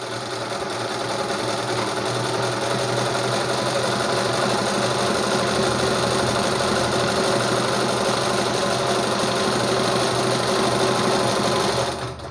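A pico sewing machine runs continuously while stitching a fabric edge, a steady fast whirring, rattling drone at close range that holds for about twelve seconds before winding down at the end, with no talk.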